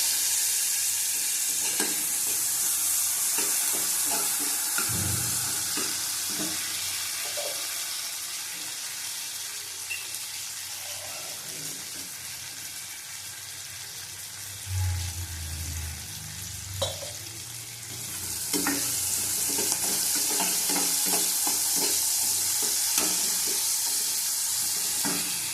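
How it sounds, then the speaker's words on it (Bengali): Cumin powder and spices frying in a pan for a Bengali mustard-cumin fish and eggplant paturi, a steady close sizzle with occasional stirring scrapes and a brief splash of water midway, no talking. "ভালো করে কষিয়ে নেবো, একটু জল দেবো না এখন"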